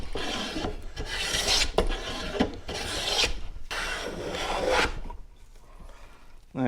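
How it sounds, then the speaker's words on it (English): A hand plane draws across a wooden board in long rasping strokes, five or so passes in a steady rhythm, close and clear with no talking, the last one trailing into quiet. "So I'm just going to keep taking shavings until we get down"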